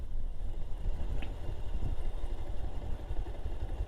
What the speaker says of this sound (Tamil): இன்ஜின் பிரேக்கிங் மட்டும்தான்.